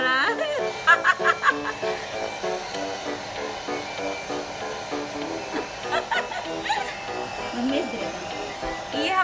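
A hair dryer blows steadily over a freshly bathed pet, a continuous airy roar running throughout, while voices talk and laugh over it.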